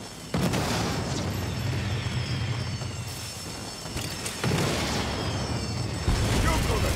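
Heavy explosions from a bomb going off in the Saints Row reboot game: booming blasts hit at the start, again midway and near the end, with a loud rumbling roar continuing between them.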